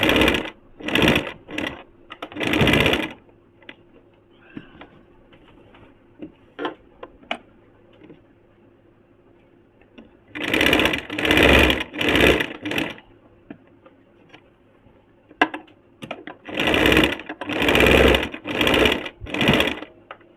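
Sewing machine joining the shoulder seam of a Nyra cut kurti, whirring in short rhythmic bursts clustered in groups with quiet gaps and light handling clicks between, close and loud.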